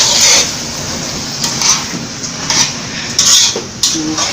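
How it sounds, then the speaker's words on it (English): Brown sugar being stirred into vegan beans and franks in a pot, a steady scraping and clinking of a spoon against the metal with rhythmic strokes, close and fairly loud, with no talking. "stir this up, and you want to stir it until the brown sugar start to melt"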